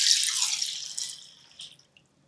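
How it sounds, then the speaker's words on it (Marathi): Chana dal is rinsed in plenty of water, giving a splashy rush of pouring and sloshing that fades to sparse drips, close by, with no voices. "यामध्ये भरपूर पाणी घालायचं. 2-3 वेळा स्वच्छ धुवून घेऊयात."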